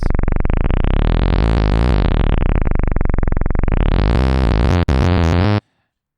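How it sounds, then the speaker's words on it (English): A loud, buzzy synthesized 303 bass line with resonant, squelchy filter sweeps, playing continuously before cutting off abruptly into silence. "this is the sound of the 303 bass"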